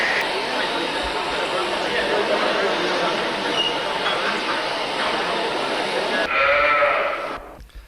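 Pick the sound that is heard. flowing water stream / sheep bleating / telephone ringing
sheep bleating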